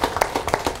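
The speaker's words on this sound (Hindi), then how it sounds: "इन लोगों के लिए जोरदार तालियां।" Audience clapping at a motivational seminar for Forever Living India, heard as a short burst of scattered, fairly loud claps with a few distinct hand strikes.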